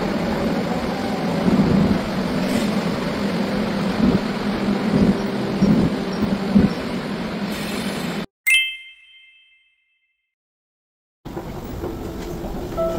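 Seoul-bound local train at Guil station platform, a sustained rumble and rattle of wheels and cars with occasional clinks, cutting off abruptly into near silence before platform noise returns.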